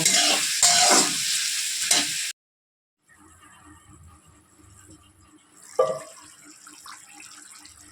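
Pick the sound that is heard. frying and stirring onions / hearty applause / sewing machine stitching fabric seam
frying and stirring onions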